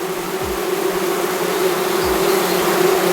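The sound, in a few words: honeybees buzzing in hive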